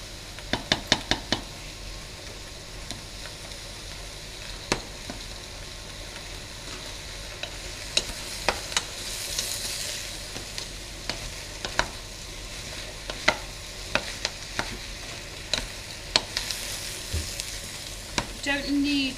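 Ratatouille vegetables sizzle steadily in a pan, a soft continuous frying hiss broken by occasional sharp clicks and knocks of stirring, heard close with no talking.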